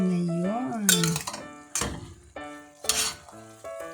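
Spaghetti with shrimp and zucchini stirred through its sauce in a pan, giving a mix of soft sizzling, scraping and clinking utensil strokes against the pot, with a voice talking over much of it.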